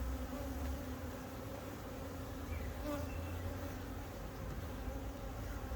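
A honeybee colony buzzes during a hive inspection for swarm cells, a dense, steady, close hum that holds unbroken throughout.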